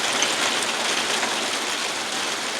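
Heavy rain pours steadily in a dense, even hiss, loud and close, with no breaks and no voices.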